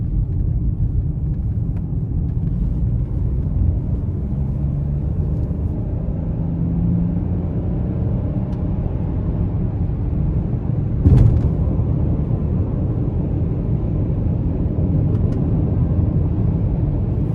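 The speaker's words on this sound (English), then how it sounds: "we're gonna give it a little pull getting on the interstate here" Steady low engine and road rumble from a 2024 Ford Bronco Sport Heritage in sport mode pulling onto an interstate, a continuous even drone from inside the cabin with one brief knock midway.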